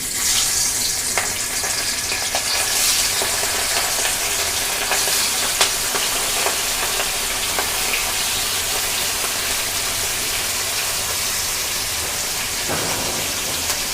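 Surma fish pieces frying in hot oil, a steady dense sizzle and crackle filling the whole stretch at constant loudness, with no talking over it.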